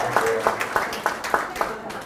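Audience at a Pohang party members' meeting clapping together in a steady, even beat, roughly three claps per second, moderately loud and close, with no one speaking.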